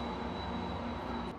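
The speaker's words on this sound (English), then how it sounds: "It's a train down there." A train passing below a city balcony at night, heard as a steady, broad rumble with a tonal whine that holds evenly throughout, distant but continuous.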